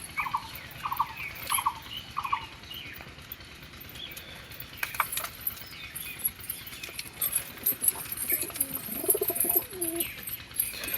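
Pigeons at a loft make a series of soft cooing calls, with several evenly spaced coos early on and further murmuring and fluttering later, close by and moderately quiet, with no talking.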